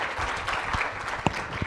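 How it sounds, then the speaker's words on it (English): Quiet, diffuse applause from a lecture audience welcoming a speaker, a soft steady patter of hands with a couple of sharper claps, fairly distant and low in level. "An applause, a warm applause for..."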